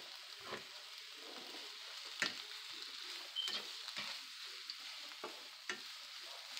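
Onions and ribeye steak sautéing over medium-high heat for a steak and cheese sub, a faint steady sizzle with occasional sharp scrapes and taps of a utensil, no talking.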